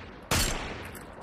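A sudden loud burst of gunfire in a Fortnite match, a single sharp blast with a short rattling tail that fades into faint background game sound.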